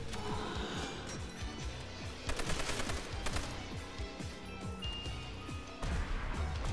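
Rapid machine gun bursts fire nonstop in a Call of Duty: World at War zombies match on the Nacht der Untoten map, dense and loud among game effects, with no talking.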